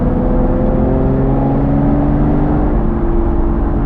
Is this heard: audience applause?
no